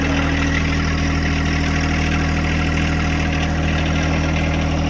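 A John Deere 2025R compact tractor engine idles close by with a loud, steady diesel rumble and even vibration throughout, with no voices.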